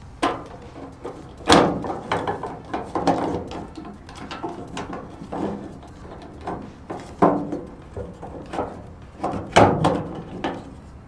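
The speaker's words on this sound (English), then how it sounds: "So let's go ahead and remove the bezel" Plastic tailgate handle bezel being pried and worked loose on a 1998 Chevy C/K 1500 pickup, a series of sharp clicks, knocks and rattles at irregular intervals, close and moderately loud, with no talking.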